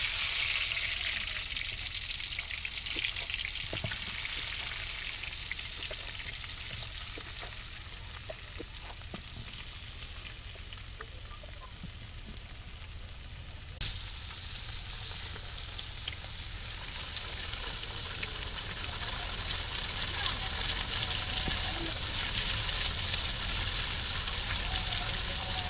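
Teasel gourd (kakrol) coated in turmeric and salt frying in a pan in a village kitchen, giving a steady, fairly loud sizzle and crackle throughout with a sharp clatter partway through.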